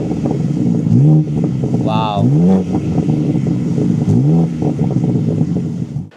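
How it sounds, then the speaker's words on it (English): A BMW G82 M4 revs its exhaust with the valves open: three or four loud, close rising blips over a steady idle rumble, with a voice briefly exclaiming in between. "give us a quick little display of what the exhaust sounds like"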